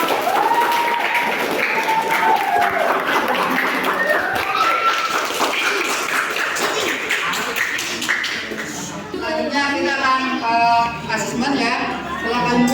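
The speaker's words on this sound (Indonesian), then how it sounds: "Ya, cukup tepuk tangan untuk kelompok." Classroom applause for a group of students, scattered clapping mixed with chatter and voices of people talking over it, fairly close and busy, with a stretch of overlapping talk near the end.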